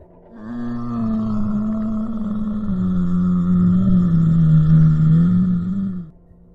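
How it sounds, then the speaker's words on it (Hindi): A deep, drawn-out monster roar for a Wendigo horror tale, one sustained, rumbling growl lasting several seconds that swells, wavers in pitch and cuts off, loud and alone with no voices. "फिर उसी रात उन दोनों को वेंडिगो की एक बेहद ही खौफनाक आवाज़ सुनाई थी"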